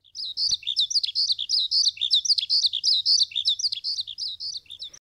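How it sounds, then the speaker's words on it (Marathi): Small birds chirp and tweet in a dense, continuous chorus of quick repeated high calls, close and fairly loud, with no talking. "त्यांचा किलबिलाट."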